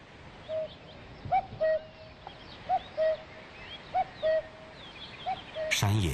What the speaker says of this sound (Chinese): 山野间传来布谷鸟催春的信息